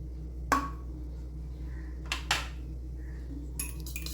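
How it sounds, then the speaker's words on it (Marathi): A spoon stirs custard powder into lukewarm milk, tapping the container in three faint, bright clinks spaced well apart against a quiet background hum. "तोपर्यंत आपण दुधामध्ये ह्या कस्टर्ड पावडर मिक्स करून घेऊया"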